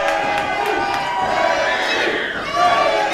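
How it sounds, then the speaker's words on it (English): A boxing arena crowd chants a fighter's name in loud, rising unison, a big roar of voices that fills the room. "a crowd is chanting Daley"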